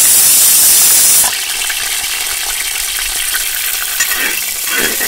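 Curry leaves, coriander, garlic and ginger hit hot oil in a pan, a loud sizzle and spatter that starts sharp then settles into steady frying with a light stir, no talking.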